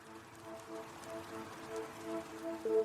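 Rain falling on hot, sandy earth and vegetation in Sudan, a soft steady patter of drops at low volume, with a faint tonal hum underneath and no voices.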